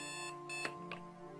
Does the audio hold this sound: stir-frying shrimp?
no